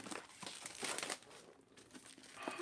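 Close crinkling and tearing of wrapping as a birthday package is opened, a series of irregular crackly bursts at moderate loudness with no talk over them.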